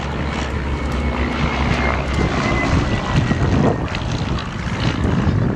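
Vintage aircraft flying at an Old Warden air display, a steady loud engine drone with wind noise across the microphone, sustained throughout with no talking.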